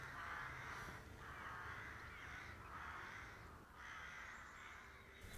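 Several crows caw near a farm field, a series of harsh, loud repeated calls in quick bursts separated by short gaps, fairly close with no talking.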